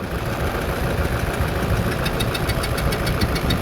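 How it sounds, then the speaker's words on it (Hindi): A car engine runs roughly after a back-compression problem, with a steady knocking rattle and uneven ticking over a continuous mid-range drone, close and fairly loud with no talking. "इस बैक कंप्रेशन के बाद द इंजन साउंड्स टेरेबल"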